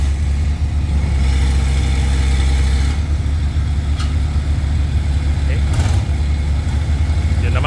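Loud, steady low engine rumble of a Caterpillar CAT320B excavator or Hino Profia truck with a worn, noisy muffler, droning continuously up close.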